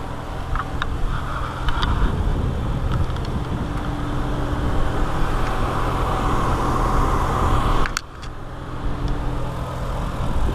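A Ford Focus RS fitted with a modified intake and skid plate drives along, its steady engine and road noise filling the recording, with a brief drop in level near the end.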